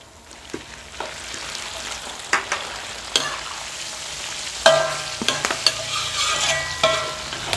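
Fresh chilies sizzle in hot oil with fried garlic, a constant close crackle broken by sharp scraping stirs and spatula knocks, growing busier toward the end.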